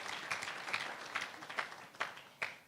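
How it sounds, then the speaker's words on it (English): Faint, distant applause from a lecture audience at a university founders lecture and gala dinner, a diffuse wash of clapping with a few slightly sharper claps poking through. "Ladies and gentlemen, please give them a warm round of applause."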